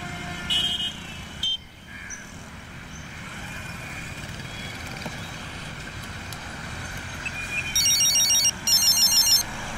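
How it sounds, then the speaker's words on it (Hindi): A telephone rings in a Hindi-dubbed film scene, electronic ring bursts entering near the end, clear and fairly close over a quiet indoor background. "भाई उसी का फोन होगा,"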